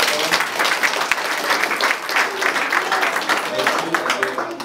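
A church congregation applauding together in worship, giving a dense, steady wash of clapping from many hands throughout, with voices mixed in beneath.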